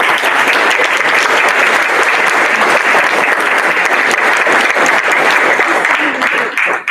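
Sustained, loud audience applause fills a university research park and innovation district summit hall, a dense wash of many hands clapping at an even level for about seven seconds before tapering slightly at the end.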